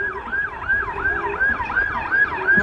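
A Metropolitan Police of Cúcuta patrol vehicle leads a road cycling race, its siren wailing in a steady repeating rise-and-fall cycle over engine rumble, loud and close.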